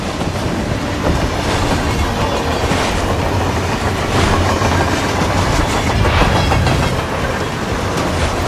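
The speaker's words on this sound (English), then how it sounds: "In theory, this thing only needs to stop for refueling. Regular ghost train." A train rolling on rails in Hitman's Carpathian Mountains level, a loud continuous rumble with rhythmic clickety-clack of wheels over track joints, close and steady throughout with no voices.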